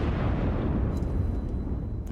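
Ship cannon fire in a naval video game, aimed at an enemy ship's waterline, comes through as a heavy, continuous low rumble of booming blasts with faint higher crackles, loud and without talk.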